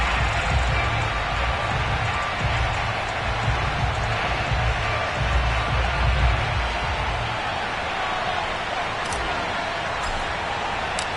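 A sold-out Cincinnati stadium crowd cheers during an NFL football game, a dense, continuous roar that stays loud and fairly distant throughout, with no distinct voices standing out.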